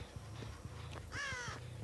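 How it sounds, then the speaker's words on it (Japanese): A crow in Dead by Daylight lets out a single harsh, close caw, heard clearly over a low, pulsing in-game background. "いた、カラス。"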